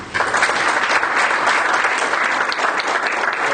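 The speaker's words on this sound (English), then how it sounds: "we do need to give them all a round of applause" An audience at the Camarillo Library gives a sustained round of applause for five city council members, steady dense clapping from many hands filling the room at close range with no talk over it.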